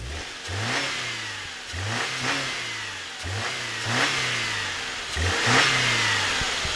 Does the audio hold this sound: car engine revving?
yes